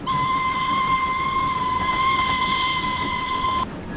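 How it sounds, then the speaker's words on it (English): The small 'peanut' whistle of a Caledonian Railway Pug steam tank locomotive in Train Simulator 2018 gives one sustained, shrill, steady blast of several seconds that cuts off abruptly, over a low background rumble. "Little Smoky Joe's got a completely different whistle on her. She's no longer got the hooter, she's got the little peanut."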